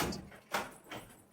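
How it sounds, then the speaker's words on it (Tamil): Door being pushed shut indoors, a few soft thuds and a sharper closing knock at close range, fairly quiet. "எப்பா கதவை ஒழுங்காக மூடுப்பா."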